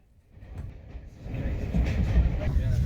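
A steam train rolling southward out of Rawtenstall on a heritage railway during a steam gala, a low rumble building steadily from quiet to a louder rolling roar with faint rhythmic rail noise.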